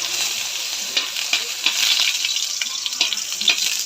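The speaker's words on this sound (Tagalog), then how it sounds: "Tara, agisa na tayo." Ginger sizzles steadily in a hot pan, a dense, even frying hiss with occasional stirring clicks, close and loud with no talking.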